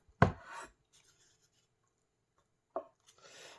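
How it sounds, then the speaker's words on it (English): Two crisp knife cuts through a Japanese rolled omelette on a cutting board, the first a firm chop with a short scraping tail, the second a quick slice after a pause, both close and otherwise quiet. "I'll cut them in half first, and then I'll cut them into 3 equal sections"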